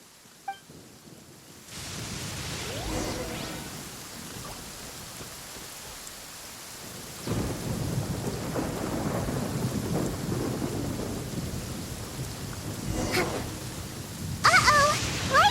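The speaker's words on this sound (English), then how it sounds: "Uh-oh! Lightning storm!" Thunderstorm in the Genshin Impact video game: steady hissing rain with deep rolls of thunder that swell and rumble, loud and continuous, with no voices.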